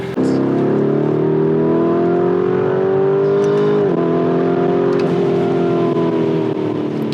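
A Lamborghini Urus SUV's engine drones loud and close while driving through corners, its pitch climbing steadily, dipping sharply once, then holding a strong continuous roar.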